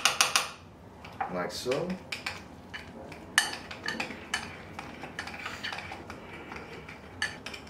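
A spoon clinks and scrapes against a bowl as food is stirred after a pinch of pink salt goes in, with quick irregular taps and rattles close by and a brief spoken remark.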